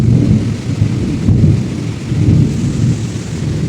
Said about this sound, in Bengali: বাহিরে ঝুম বৃষ্টি